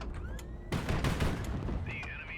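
Ships in the video game Highfleet open fire in a dense burst of overlapping gunshots that starts suddenly and lasts about a second, then tails off, with a rising electronic tone near the end.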